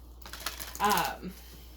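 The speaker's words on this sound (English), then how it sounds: "these cards are very easy to shuffle" Oracle cards being shuffled up close, a quick papery riffle and flutter in short bursts.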